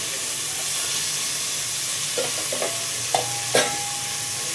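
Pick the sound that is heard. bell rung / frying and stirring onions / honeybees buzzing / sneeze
frying and stirring onions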